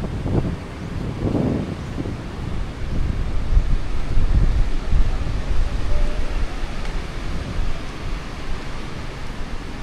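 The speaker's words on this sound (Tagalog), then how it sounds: "Makulimlim, lakas ng hangin." Strong wind at an overcast beach buffets the microphone in a constant heavy roar, with a few deeper gusts near the start and no talking.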